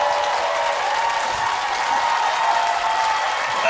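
Studio audience at a televised Korean economics concert bursts into sustained, dense applause, a broad steady wash of many hands clapping with no voices on top.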